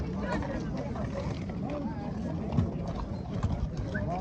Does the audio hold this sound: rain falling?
no